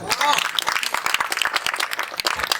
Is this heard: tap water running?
no